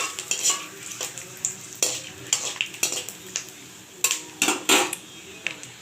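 Bay leaves and dried red chillies frying in oil for egg khichuri, a soft sizzle broken by repeated sharp scrapes and clinks of a spatula against the pan, close and alone.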